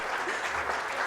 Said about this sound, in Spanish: Sí, pueden aplaudir, no hay problema.